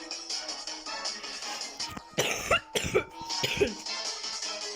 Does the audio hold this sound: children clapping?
no